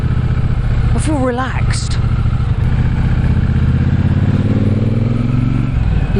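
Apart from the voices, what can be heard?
cruiser motorcycle engine while riding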